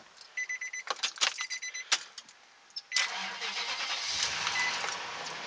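A car engine on a jump-start system with a dead battery cranks with a few rapid turnover bursts, pauses, then catches and settles into a steady, continuous running hum.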